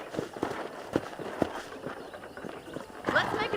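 Hooves of a horse clip-clop in an uneven walking rhythm in the video game Red Dead Redemption, on a ranch, close and moderately loud, with a faint background hum.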